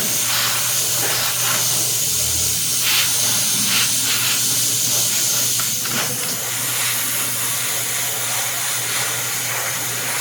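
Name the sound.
airbrush spraying wash on a figure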